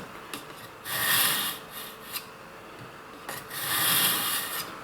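A knife blade is drawn through the fine slot of a Dailyart knife sharpener, giving soft rasping scrapes in two bursts, one about a second long and another near the end, close and fairly quiet.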